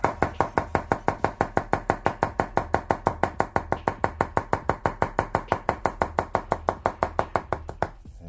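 Rapid, steady chopping with a Katsumoto Nakiri kitchen knife, about five crisp blade strikes per second on a cutting board, close and loud, continuing alone for nearly eight seconds before stopping.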